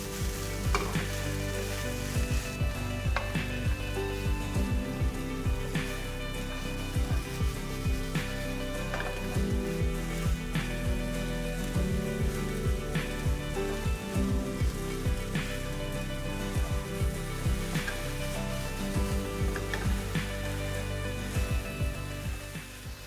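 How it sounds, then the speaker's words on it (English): Tofu crumble sautés in a pan with a dense, steady sizzle and crackle throughout, punctuated by occasional scrapes and knocks of a utensil stirring it. "Saute for 5 to 7 minutes."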